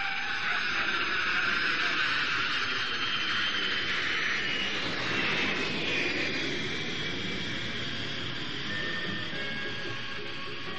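A jet aircraft roars steadily in flight as a radio drama sound effect, a dense continuous engine rush filling the scene from start to finish.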